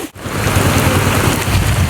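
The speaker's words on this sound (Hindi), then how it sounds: "दोस्तों बरसाति शुरू तेज़ थी चुकी आहे" Heavy rain pouring down in a village during a cloudburst, a dense loud continuous roar of falling water with no pauses.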